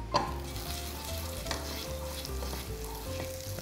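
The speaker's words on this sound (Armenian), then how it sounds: "տապակի մեջ գցում ենք կարակ" Butter sizzles loudly in a frying pan over lowered heat while being stirred, a steady crackling hiss with scraping stirs throughout, near and alone without any voices.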